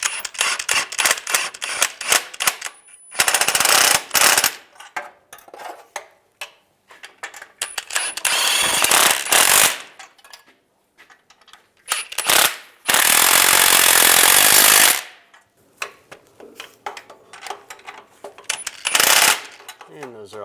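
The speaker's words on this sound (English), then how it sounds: "Then we're going to tighten up the nuts." Bursts of mechanical clicking and whirring from a tool tightening nuts on the rear main seal cover of a 2007-2013 Chevy Silverado, several loud rattling runs separated by pauses and quieter clinks, with no talk.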